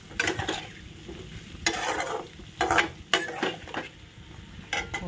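A splash of water hits a pan of hilsa fish head curry with red amaranth stalks that has been frying, giving bursts of hissing sizzle broken by stirring scrapes and light clinks of cookware, with no talk.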